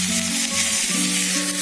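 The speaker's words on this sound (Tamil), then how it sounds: "எண்ணெய் காஞ்ச உடனே அதுல கடுகு போடணும். பெருங்காயத்தூள் போட்டு இந்த கருவேப்பிலையும் அதுல" Mustard seeds, asafoetida and curry leaves crackling in hot oil, a loud, dense hiss with bright spattering pops over a short burst, no voices.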